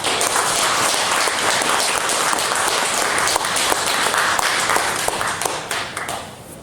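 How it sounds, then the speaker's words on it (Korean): Members of a Korean Presbyterian church at a Christmas service applaud a baptism, loud, dense clapping from the whole congregation that holds steady and then begins to taper near the end. "여러분들 박수로 축하해 주십니다."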